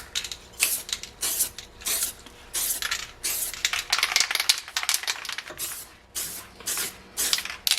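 A can of weld-through primer sprays in a long series of quick, sharp hissing bursts, close and loud with brief pauses between, over a steering box mount reinforcement on a Mercedes W109/W108.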